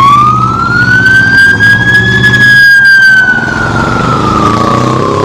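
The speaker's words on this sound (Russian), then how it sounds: "Сразу и мотоцикл, и служебная машина." A loud emergency siren wails close by on a street in Washington, rising slowly then dipping in one long sweeping tone over a low engine drone.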